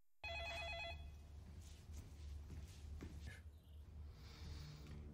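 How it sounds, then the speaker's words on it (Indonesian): A telephone rings briefly and faintly in a police office, a short electronic warble at the start that fades into low background rumble and quiet shuffling. "Di kantor polisi, mereka dapat telepon dari si Terry"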